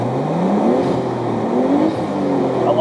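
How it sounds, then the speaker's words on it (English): A 1991 Nissan Skyline GTS-t sedan's RB20 inline six revs inside the car, a smooth, steady rising drone heard up close for a few seconds with nothing talking over it. "We'll get some revs so you can hear in car."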